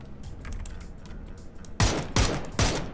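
Three sharp, loud bursts of gunfire in a Korean battle royale video game, arriving in quick succession after a quieter stretch of faint clicking and ambient noise.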